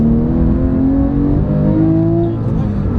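A car accelerates hard as the driver presses down on the gas during a driving lesson, the engine note rising steadily and loudly from inside the cabin.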